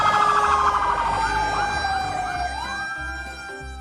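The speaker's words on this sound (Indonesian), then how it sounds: "Wadidaw, ini ada mobil pemadam kebakaran." A toy fire truck sounds its electronic siren, a loud continuous wailing tone that sweeps up and down, playing alone without talk.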